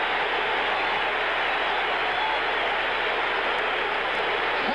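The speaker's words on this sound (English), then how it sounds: "And listen to the crowd cheering the Phillies in first place with a 10-game lead at the halfway mark." A stadium crowd cheers at the 1976 MLB All-Star Game at Veterans Stadium in Philadelphia, a dense, steady roar of many distant voices that holds unbroken throughout.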